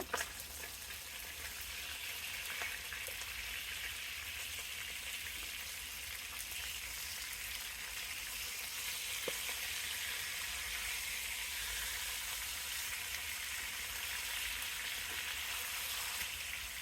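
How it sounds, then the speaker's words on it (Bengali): Pieces of katla fish shallow-fry in oil in a pan over medium-low heat, giving a close, steady, even sizzle with faint crackles that runs unbroken throughout, with no talking. "একদম মচমচে করে ভাজবো না, হালকা করে ভেজে নেব"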